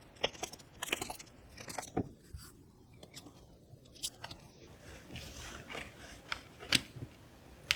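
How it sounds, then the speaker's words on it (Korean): Tarot cards drawn from a deck during a reading, producing a string of soft, crisp card snaps and slides in uneven bursts, close and quiet against a faint room hush. "간단히 또 도움이 될 수 있는 방향 카드 뽑아보도록 해보겠습니다."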